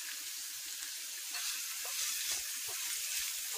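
Finely chopped onions frying in a pan with garlic for a veg pizza puff filling, giving a soft, steady sizzle and hiss with faint low clicks of stirring, no talk.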